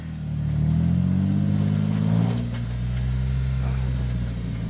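A stuck car's engine revs hard and steadily as it rocks back and forth against a berm on a rough wilderness road, the pitch climbing and then easing, loud and close, with no talk over it.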